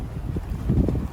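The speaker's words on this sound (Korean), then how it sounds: "문 여는 순간 바람이 엄청난 게 느껴진다" Strong wind gusts rush past an opening car door near Nohur in rural Turkmenistan, a loud, low buffeting roar with microphone wind noise that swells toward the end, heard alone.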